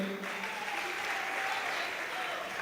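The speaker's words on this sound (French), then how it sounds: "On applaudit pour elle." Applause from a comedy-show audience welcoming a stand-up comedian, a steady, full wash of clapping hands lasting nearly three seconds, with a faint tone sounding beneath it.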